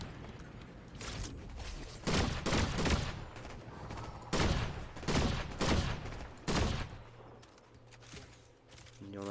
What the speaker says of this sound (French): Ça tire où? Ça tire de là.